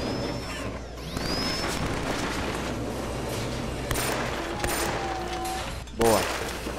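Gunfire in the video game Killzone 3, a dense, continuous rattle of shots and impacts beneath game effects and a short whooshing sweep, ending in a louder burst near the close.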